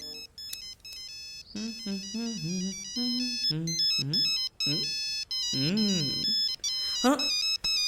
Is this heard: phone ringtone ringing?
yes